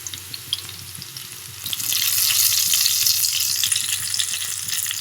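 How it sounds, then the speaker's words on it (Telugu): Fish pieces drop into hot oil for a fish curry, setting off a loud, steady sizzle that swells after a quieter start with a few clinks and stirring sounds. "ఫ్రై అయిపోయిన తర్వాత ఫిష్ ముక్కలు వేస్తున్నాం"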